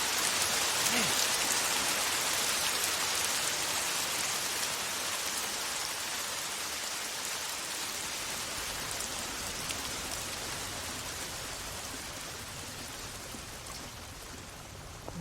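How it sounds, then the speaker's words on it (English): Steady rain falls in the video game Lost Odyssey, a dense, even hiss of drops on surfaces that holds throughout and fades slightly toward the end, with no talking. "Oh, great. It's raining."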